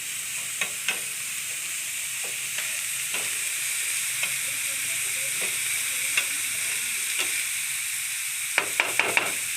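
Egg roll ingredients fry in a pan with a steady, moderate sizzle and hiss. Occasional soft clicks and stirring taps run through it, and a quick cluster of clatters comes near the end, with no talk.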